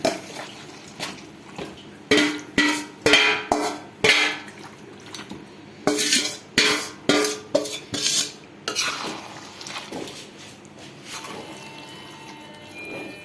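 Chicken stirred in a cooking pot for chicken biryani: a rapid series of loud, close scraping and clanking ladle strokes against the metal pot, bunched in rhythmic bursts, then easing into quieter wet stirring, with no talking.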